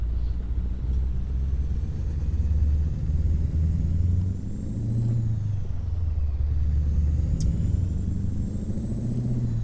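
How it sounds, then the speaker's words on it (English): Kenworth W900 truck engine in American Truck Simulator, a deep steady diesel rumble that swells and eases as it pulls, loud and close throughout with no talking. "Just listen to that engine. That sounds so cool."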